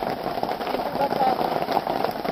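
Steady rain during a storm patters on a surface nearby, close to the sea, a dense hiss with scattered drops, with a voice faintly underneath.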